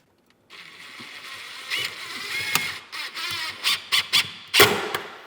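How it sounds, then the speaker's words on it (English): Screwing a refrigerator top to a shelf in a garage build: a run of short ratcheting, clicking screwdriver bursts, several sharp close clicks in quick succession, with no talk. "Now we're screwing the top of the refrigerator to this shelf."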